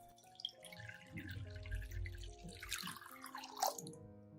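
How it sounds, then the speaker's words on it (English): Cinnamon solution pours into a large bowl, soft dripping and splashing liquid sounds building in the middle with a brighter splatter near the end, fairly faint and close. "I pour all of the cinnamon solution into a large bowl."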